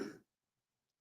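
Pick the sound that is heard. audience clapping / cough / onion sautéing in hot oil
cough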